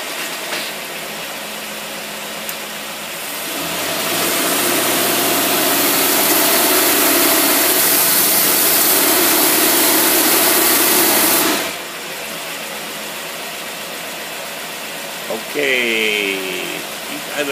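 An engine fitted with a Holley 2-barrel carburetor runs steadily nearby, swelling into a louder, harsher roar for several seconds when put in gear, then settling back, with brief voices at the end.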